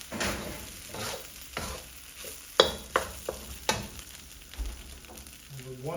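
Fried rice stir-fried in a hot pan in a kitchen, with a soft sizzle under repeated scraping and clanking of a utensil against the pan, several sharper knocks toward the middle.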